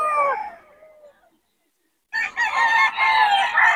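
Young roosters crowing nearby at dawn: one crow trails off into silence, then a second loud, strained cock-a-doodle-doo rises, with overlapping calls.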